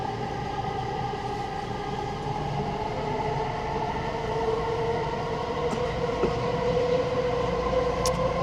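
SkyTrain metro train riding through Burquitlam in Metro Vancouver, a steady loud rumble of wheels and motors from inside the car, with a faint brief squeal near the end and no talking.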